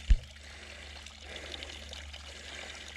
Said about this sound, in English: That water's coming out of the top of that pipe.